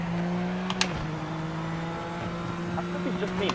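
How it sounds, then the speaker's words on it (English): A Lexus GT4 race car in a racing sim hums along at steady engine revs with brief tire squeals and shifts, heard under ongoing conversation. "The Lexus GT4 sounds like a V8 supercar."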